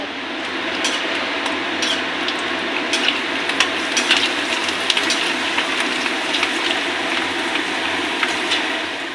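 Eggplant fritters (beguni) and papad sizzle steadily in hot oil, a close, continuous crackle with occasional sharper pops and clinks, with no talking.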